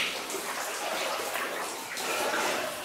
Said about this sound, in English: So that's where the dripping sound was coming from. It's off the end of that ore chute right there.